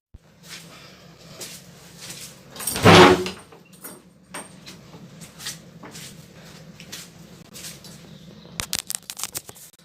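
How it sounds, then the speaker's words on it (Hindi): An outside door of a house being opened during a power cut: a loud scraping, rattling burst of the door moving, followed by quieter shuffling and a few sharp clicks and knocks near the end, with no talking. "थोड़ा सा बाहर का दरवाज़ा खोल के आता हूँ"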